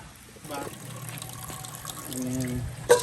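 Water trickles and splashes into a container at a moderate level, with faint background sounds and a brief clatter near the end.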